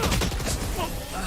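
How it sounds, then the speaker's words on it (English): Rapid gunfire in a competitive Valorant match, a dense burst of overlapping shots over a short stretch under game noise. "They run into superior gunfire as this is a actual gun round here from Western University."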